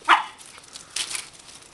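Great Danes and a Chihuahua playing, with one sharp, close bark at the start followed by a quieter flurry of yips and scuffling about a second later; no talking.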